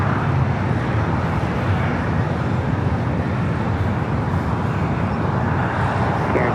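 Aeromexico airliner in updated livery touching down on the south runway at Los Angeles airport, a steady broad roar of engines and rushing air, loud and continuous throughout with no talk.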